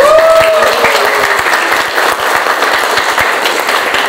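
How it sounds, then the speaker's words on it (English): A crowd on a Nürburgring track walk claps hands loudly and close up, a dense continuous patter with sharp individual slaps, and a brief whistle or whoop at the start. "make some noise, clap your hands for Misha, please."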